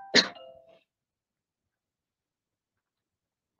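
A single sharp cough from a presenter during an online teacher-training lesson, close and loud at the very start, followed by near silence and a tiny click at the end.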